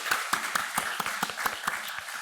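Worshippers in a Korean church clap together during a Sunday morning service, a moderate room of hands beating out a fairly regular, rhythmic applause with distinct individual claps standing out.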